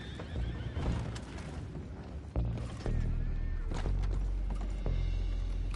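Horses in the video game Red Dead Redemption 2 neighing and whinnying repeatedly, with clip-clopping hooves, thuds and mechanical clatter, over a steady low rumble.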